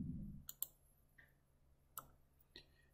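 A few sharp, quiet mouse clicks, spaced out over a few seconds, in a quiet room while brackets are added in orthodontic tooth-setup software.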